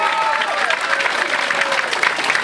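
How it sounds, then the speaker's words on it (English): Comedy club crowd giving a retired military audience member a round of applause, loud, dense clapping close by that holds steady, with a few voices mixed in. "Give him a round of applause"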